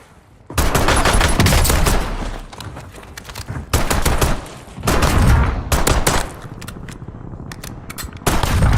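Heavy gunfire in a Call of Duty Warzone match in Verdansk, loud close shotgun blasts and bursts of rapid shots in several dense clusters, with crackling echoes between volleys.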